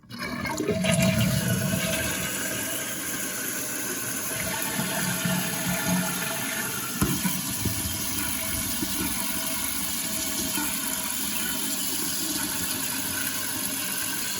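A toilet tank with a suspected faulty flapper refills after a flush, a steady rushing hiss of water running continuously and fairly loud from start to finish, with no one speaking.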